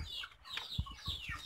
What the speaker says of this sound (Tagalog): Ito na yung mga manok na hihintay ng pagkain nila.